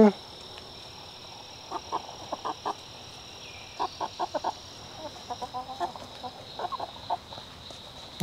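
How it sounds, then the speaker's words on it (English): Backyard chickens cluck in short, irregular bursts, fairly close and soft, over a steady background hum of crickets and insects. "You sure are pretty birds."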